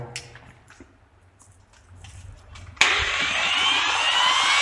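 A Bosch angle grinder with a replaced housing bearing and switch sits on a series test board. After a few quiet clicks and handling noises it switches on and spins freely with a steady, loud, high whine.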